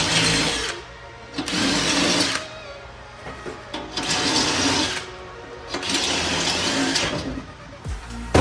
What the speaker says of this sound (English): But we got to drill 20 holes, 15 holes.